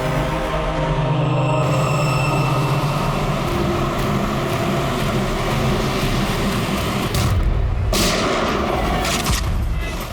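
Gunfire and booming blasts in a TV crime drama, loud, dense shots and rumbling impacts layered over a continuous roar, with a sharp burst cluster near the end.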